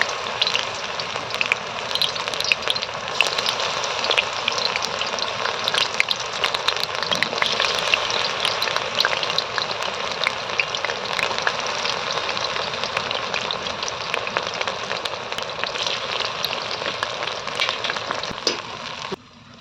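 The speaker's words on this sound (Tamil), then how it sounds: "பக்கடா மாதிரி எண்ணெயில் போடுறேன்" Mushroom pakoda frying in hot oil at a roadside-style stall, a steady dense crackling sizzle that holds evenly for about twenty seconds, close and fairly loud with no talking.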